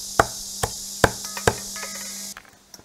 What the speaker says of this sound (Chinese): 现在把这个鸡腿剁